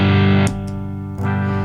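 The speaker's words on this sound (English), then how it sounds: "Not a bad sounding distortion right off the bat." An electric guitar played through a Musiclily ODDT-01 distortion pedal rings out loud and close: a thick, slightly muddy distorted chord sustains, then a brief pick scrape leads into another strummed chord.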